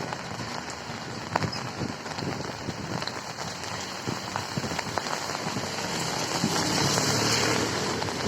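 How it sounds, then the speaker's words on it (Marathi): Heavy monsoon rain pours down in Nalasopara, Palghar, a dense, steady hiss of drops striking surfaces that keeps up without a break and swells slightly toward the end. "अजूनही पावसाचा जोर कायम आहे."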